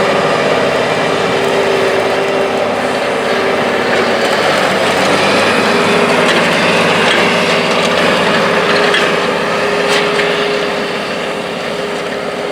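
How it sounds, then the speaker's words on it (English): A John Deere 9620R tractor plowing a field drones loudly and continuously at close range, its steady roar holding for the whole stretch with slight shifts in load. "this tractor skips every other pass as it's plowing"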